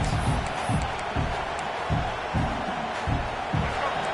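Stadium crowd at a college football game roaring as the defense faces a red zone stand, a loud, sustained swell of massed voices with rhythmic pulses, heard alone without nearby talk.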